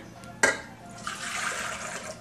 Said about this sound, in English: Can you put this water here, Alexander?